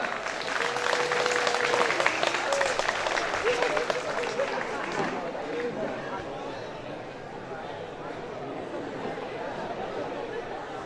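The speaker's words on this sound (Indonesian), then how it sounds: "Nah, tepuk tangan." Applause rises from an audience at an outdoor school assembly with the regent, strongest in the first five seconds and then thinning as chatter and voices carry on underneath.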